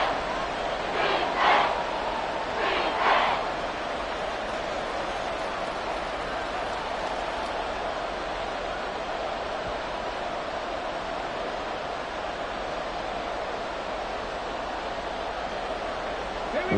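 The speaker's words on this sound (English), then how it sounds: "This crowd doing all they can." A large football stadium crowd roars continuously during a Dallas Cowboys game on third and goal, a dense, steady wash of distant cheering with brief louder shouts near the start.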